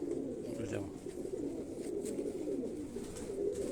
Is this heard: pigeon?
yes